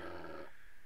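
A dog in the Breath of Fire III video game gives a short, rough growl lasting about half a second, then drops to quiet.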